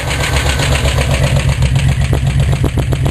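A turbocharged Corvair Spyder engine runs at a loud, steady idle with a loose tailpipe and a stripped spark plug, its low rumble close and alone with no voices.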